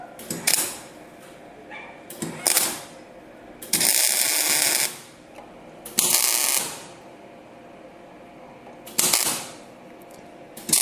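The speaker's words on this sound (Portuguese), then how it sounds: "E vamos dar um ponto de solda." Steel is tack welded after levelling: several sharp bursts of arc crackle, each lasting about a second, spaced apart and loud and close.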